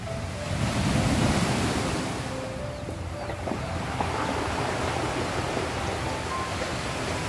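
Morning sea waves washing onto the shore, a steady broadband surf roar with wind noise, fairly loud and continuous throughout, with no speech.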